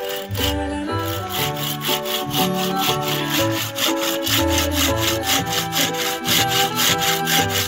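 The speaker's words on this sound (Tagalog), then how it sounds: "Ayan, puputulin na natin yung madre cacao." A hand saw cuts through madre cacao wood in fast, regular back-and-forth strokes, loud and close, with no talking.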